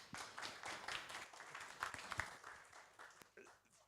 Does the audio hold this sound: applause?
yes